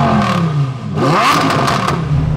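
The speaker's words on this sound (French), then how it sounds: "mettez-moi un pouce bleu pour ce son moteur là" A Lamborghini Huracan STO engine revs hard, its loud mechanical roar climbing in pitch and swelling near the midpoint before holding a strong, sustained howl.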